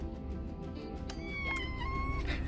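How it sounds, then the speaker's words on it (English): A pet cat meows in a quiet room, a few short rising-and-falling calls over the last second and a half, moderately close and fairly soft. "If you hear that meowing"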